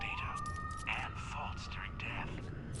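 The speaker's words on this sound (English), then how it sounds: "there's a lot of sirens coming." Sirens wail in the Borderlands 3 video game, a rising tone sweeping in and holding steady over game noise while a voice talks quietly throughout.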